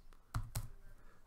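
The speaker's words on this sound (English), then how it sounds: "So I'm just going to type in my public IP here" Two quick keystrokes on a computer keyboard, close and fairly quiet, as an IP address is typed in while setting up remote desktop access to a Windows Server 2019 instance on Amazon Web Services.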